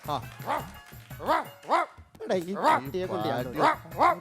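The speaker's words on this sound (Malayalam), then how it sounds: "പഞ്ചായത്തിന് മുഴുവൻ പട്ടികളാ." Dogs bark and yip repeatedly at close range, in quick uneven bursts that overlap one another.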